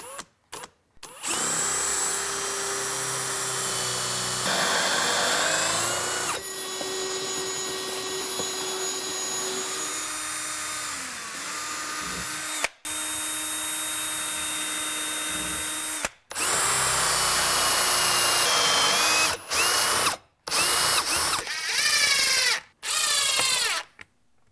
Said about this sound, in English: Then we drill.